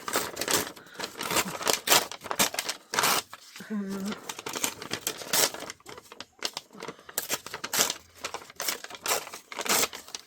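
Book pages are cut up for journal cards, giving repeated crisp snips and paper rustling close by, mixed with handling noises and intermittent talk.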